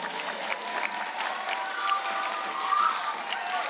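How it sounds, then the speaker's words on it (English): An audience at a school parent night claps for a long-serving teacher, a moderate wash of applause with a few scattered voices mixed in, swelling slightly toward the end. "let's give her a round of applause"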